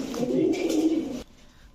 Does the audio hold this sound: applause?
no